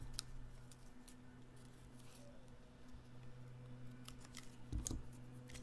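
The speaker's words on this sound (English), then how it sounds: "And then for the other 2, I cut off a little place near the bottom." Scissors cut through pre-printed vellum paper in a quiet room. A few faint, crisp snips and clicks come close by, with near silence between them.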